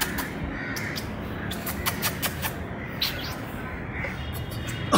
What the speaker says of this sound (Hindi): ये हमारा तोता